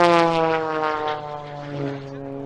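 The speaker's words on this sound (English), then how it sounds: "These are the stunt planes doing these really cool airplane acrobatics." A propeller stunt plane performing aerobatics at the Stuart Air Show passes close with a strong, buzzing engine drone whose pitch slides lower as it moves away and fades.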